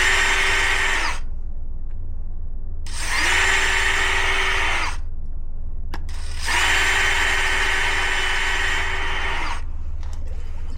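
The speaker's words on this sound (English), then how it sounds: "Step one is drilling through the eyes." A power drill bores into the eyes of a coconut in three sustained bursts with short pauses between, loud and close, the motor whine steady through each run.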